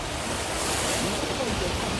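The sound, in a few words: water waves sloshing in rooftop swimming pool during earthquake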